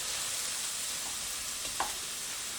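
Chopped garlic frying in a pan for a South African savory mince dish, giving a steady, even sizzle throughout with a faint stirring scrape near the end and no talking.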